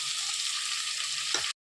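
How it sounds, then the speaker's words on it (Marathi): Beans and onion frying in oil in a pan give a steady, close hiss of sizzling that runs unbroken, with a brief stirring clatter just before it cuts off abruptly. "आता मस्त फ्राय झाला तर शेंगा सोडते"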